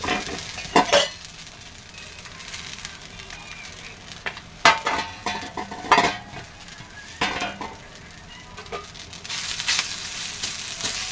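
Drumstick leaves dry-roast in a pan on the stove for leaf powder, with loud scraping stirs, clinks of a spoon against metal and a light crackling rustle throughout.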